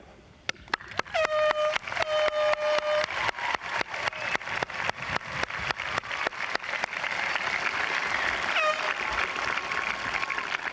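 A high school graduation crowd bursts into loud, sustained cheering and clapping, dense and rising after a few sharp early claps, with whistles and whoops cutting through the roar.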